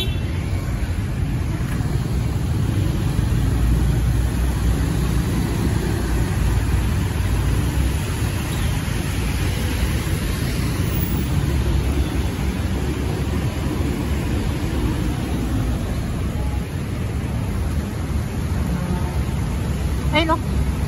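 Heavy, congested road traffic on a rainy Saturday afternoon, a dense steady rumble of car engines and broadband road noise, continuous and close with no distinct events standing out.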